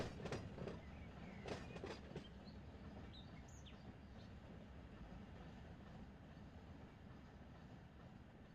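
A long freight train rolls along in the Run 8 Train Simulator game near Bakersfield, with a steady low rumble and clickety-clack of cars. A few sharp clanks come early, then a continuous, fairly quiet roll.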